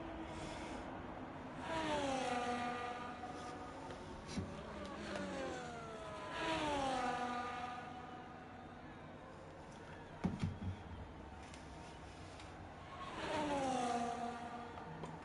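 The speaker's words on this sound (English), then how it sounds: "So Wookie just warming his tyres up." Race cars circling a sim racing track in Las Vegas, engines swelling in and out as cars rev and pass at a distance, with a brief clatter midway and no one speaking.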